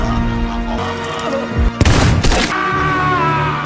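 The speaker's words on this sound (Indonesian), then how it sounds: "dia juga harus kehilangan sebelah tangannya akibat tembakan dari Spen" Gunfire rings out in a psychopath thriller film, with sharp shots and a loud burst of rapid fire near the middle over tense background music.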